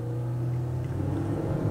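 Low, steady drone of a Yamaha F130 four-stroke outboard on a Polycraft 530 boat on water, fairly close, with a slight rise in rumble toward the end.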